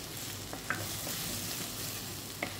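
Chopped tomato sautéing in a pan for breadfruit curry, a steady close sizzle and fry with a couple of soft stirring knocks, no talking.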